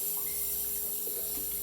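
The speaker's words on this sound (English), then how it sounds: "So I'm going to take and wash this off." Tap water runs steadily into a kitchen sink while pumpkin seeds are rinsed off, a continuous moderate splashing flow with no talking.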